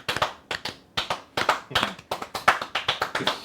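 Rapid hand taps imitate horse hooves clopping, a steady run of about twenty short, sharp knocks in uneven pairs, close and fairly loud with no voice over them.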